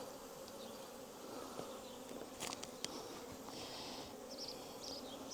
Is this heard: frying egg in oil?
no